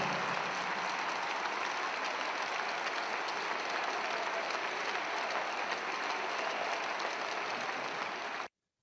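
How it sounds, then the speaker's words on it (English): A crowd at a sports event applauds to celebrate Dale's life, a dense, steady wash of clapping and cheering that holds at an even level and then cuts off abruptly. "Now let's hear that applause as we celebrate Dale's life."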